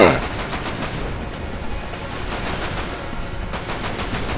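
Rapid automatic gunfire from a weapon in a video game, a loud continuous burst of shots that keeps going without pause.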